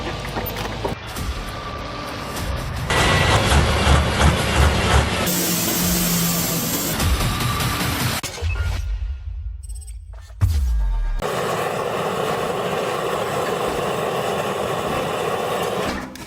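A 1936 Storebro 2.5-ton hot bulb engine, built in Sweden, starts and runs. The steady, loud mechanical rumble and clatter carries through several abrupt cuts, with one brief quieter gap before the running noise resumes.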